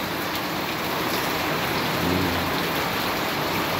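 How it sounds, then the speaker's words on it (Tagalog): Heavy rain pours down steadily in a dense, continuous roar, with a faint low rumble briefly rising midway. "binubuhos lang galing sa langit yung ulan"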